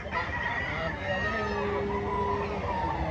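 Roosters of gamecock breeds such as Golden Boy and Ormoc Gold crow and cluck at a poultry market in Lipa, Batangas. A long crow rises over a continuous din of crowing and clucking birds, with faint voices in the background.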